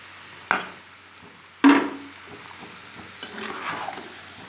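Sugar is stirred into raw, uncooked chopped mango for pickle in a pan: two sharp scrapes of a spoon against the pan stand out, followed by softer stirring and faint sizzling.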